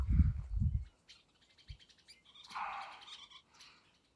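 Several short bird chirps and tweets scattered through the clip, fairly faint and distant, outside a house's front door in Davenport, Washington, with a low thump or two near the start.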